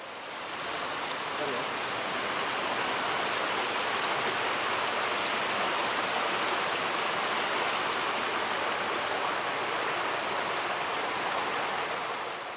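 River water rushing over rocks along a forested bank, a dense, continuous roar of flowing current close by, steady and loud throughout with no pauses.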